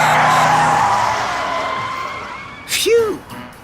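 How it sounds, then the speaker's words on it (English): Car brakes slam on with a short, sharp tire squeal and skid that rises over fading road noise, brief and loud near the end. "Time to hit the brakes."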